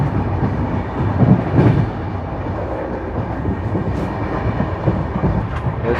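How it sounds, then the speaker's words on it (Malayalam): The Karnataka Sampark Kranti Express is heard from inside while it moves, a loud steady low rumble of the rolling train with faint rhythmic rattling and no talking. "ഞാനിപ്പോൾ കർണാടക സമ്പർക്ക് ക്രാന്തി ട്രെയിനിനകത്താണുള്ളത്"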